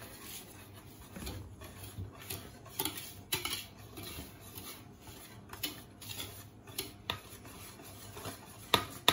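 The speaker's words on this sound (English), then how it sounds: "And then we will just give it a mix to make sure everything is combined." Dry ingredients of flour, baking powder and salt being stirred in a bowl for speculoos cookie butter cupcakes, giving soft scraping and rubbing strokes with occasional light clinks against the bowl, close and fairly quiet.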